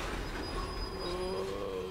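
Train coupling in hard in Train Simulator 2014, heard as a continuous rumbling railcar noise with metallic wheel squeal and creaking tones rising near the end, steady and fairly close with no talking.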